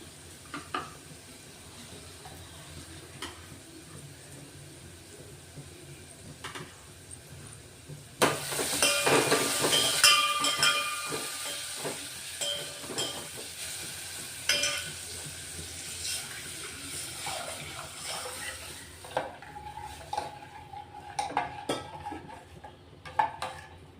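Spices for kadhi hit hot oil in a pot with a sudden loud sizzle that bursts in partway through, then settles into a crackling fry with stirring and faint clinks of utensils.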